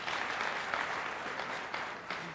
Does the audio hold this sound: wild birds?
no